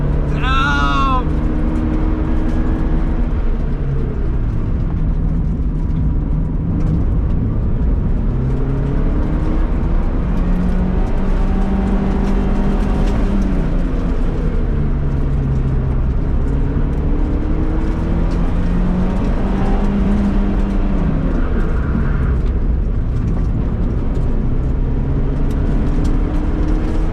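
A Toyota Starlet pushed hard in a mountain race against supercars, its loud engine revving up and down in repeated sweeps through gear changes, with talk over it.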